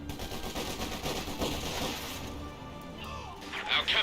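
Vickers machine gun fire in a Company of Heroes 2 battle, a dense crackling spray of shots with smashes and impacts throughout, fairly loud and continuous, easing slightly late on.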